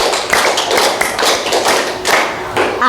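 Rhythmic hand clapping from a classroom group playing a counting clap game, sharp taps landing in quick patterned bursts that fill the room, close and fairly loud with little talk over them.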